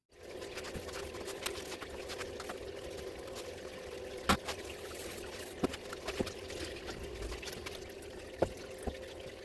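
Water blasts through a gold sluice box in a steady, rushing gush that runs throughout, with a few sharp knocks and splashes standing out above the continuous flow.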